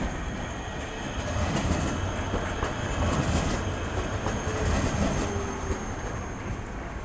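A Prague tram rolls around a street corner, its steady rumble and rail noise filling the scene at close range with faint squeal and busy city background throughout.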